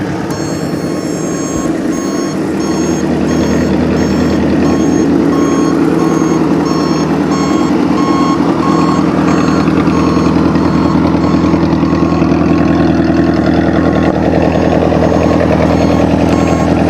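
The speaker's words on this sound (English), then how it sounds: "Let's go ahead and fire it up and see how it sounds." A 1977 Honda CB750-A Hondamatic motorcycle engine runs at a steady, close idle for the whole stretch after starting, with the factory turn signal buzzer's repeating high electronic beep pulsing over it.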